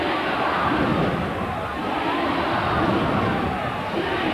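A crowd at a 1992 Winfield Cup rugby league match between Gold Coast and Canterbury-Bankstown keeps up a steady, roaring mass of cheering and shouting that sounds distant and continuous, with no single voice standing out.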